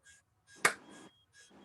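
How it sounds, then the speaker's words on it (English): A single sharp hand clap struck for an audio sync test, standing out loud and alone between short stretches of quiet room sound. "So I'm gonna clap"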